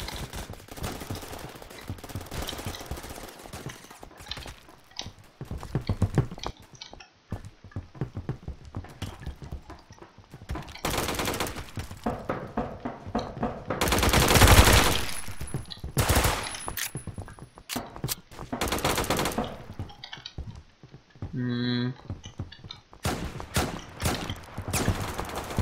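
Burst-mode pistol fire in a Roblox shooter comes as scattered clusters of quick, sharp shots. Quiet gaps separate the bursts, and one louder, longer blast sounds near the middle.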